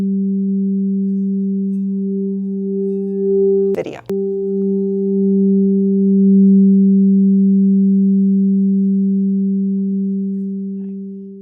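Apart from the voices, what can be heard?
harmonic beats between two singing bowls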